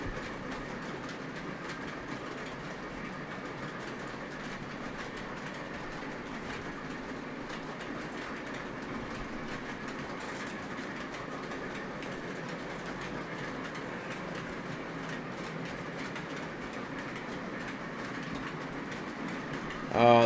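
Lionel Legacy Norfolk & Western J 611 and an unshrouded MTH Premier PS2 J model steam trains run steadily on a layout, a continuous rumble with rhythmic clickety-clack of wheels on track throughout.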